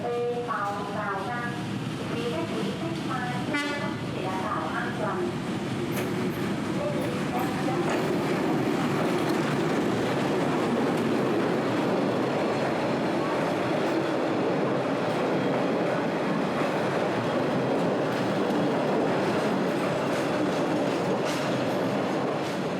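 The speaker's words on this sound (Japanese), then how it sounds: "列車がホームへとやってくる。" A train rolls into a station platform in Hanoi, Vietnam, with a steady rumble and clattering wheels, continuous and fairly close, a brief horn-like tone early on and faint voices around.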